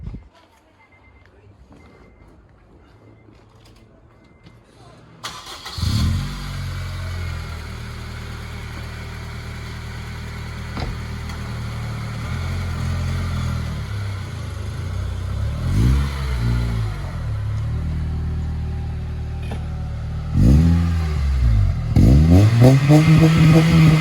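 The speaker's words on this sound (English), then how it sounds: "I can start it up to get a sound out of the vehicle." A 2006 Honda Integra Type S starts after a quiet moment, settles into a steady idle close by, then is revved in a few sharp bursts, the last two coming in quick succession.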